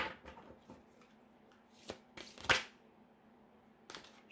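Fairy oracle cards being shuffled by hand, soft brisk riffles and taps in short bursts with a sharper snap near the middle, close and quiet.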